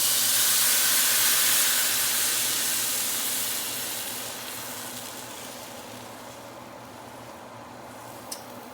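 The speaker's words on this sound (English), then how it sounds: "I'm going to go ahead and put our tomato sauce in" Tomato sauce hits hot browned rice in a pan for homemade Mexican rice, giving a loud, broad steamy sizzle that slowly fades and softens over several seconds, with no talking.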